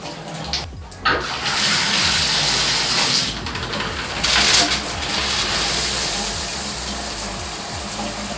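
Water gushes steadily through a BWDM 15-stage shower filter, a loud, close rushing flow that starts after a brief pause and holds strong with small surges, while a voice speaks faintly beneath it.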